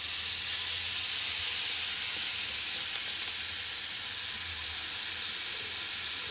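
Prawns mixed with masala sizzle and fry steadily in hot oil on a dosa griddle (tawa), a continuous loud, close hiss with no talking.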